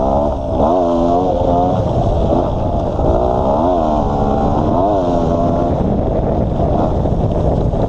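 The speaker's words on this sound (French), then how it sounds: "ça reste une moto de trial bien sympathique" A GasGas 250 two-stroke trial motorcycle runs loud and close, its engine rising and falling through repeated throttle blips over heavy wind noise.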